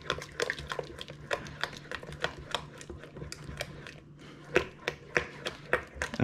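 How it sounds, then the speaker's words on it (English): Banana bread batter being mixed in a bowl, with a utensil tapping and scraping in a quick, steady series of clicks and clacks, fairly close and moderately loud. "So now we just mix this."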